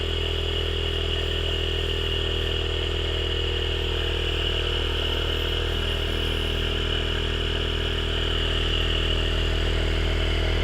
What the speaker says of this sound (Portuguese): Temos aqui o nosso motorzinho que está a trabalhar.